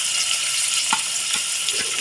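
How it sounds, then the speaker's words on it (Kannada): Onion, capsicum and carrot frying in oil in a pan, a steady bright sizzle that runs the whole time, with a few soft stirring knocks and scrapes now and then. "ಆನಿಯನ್, ಕ್ಯಾಪ್ಸಿಕಮ್ ಮತ್ತು ಕ್ಯಾರೆಟ್ ಚೆನ್ನಾಗಿ ಎಣ್ಣೆಯಲ್ಲಿ ಇದನ್ನು ಫ್ರೈ ಮಾಡ್ಕೊಳ್ಳಿ."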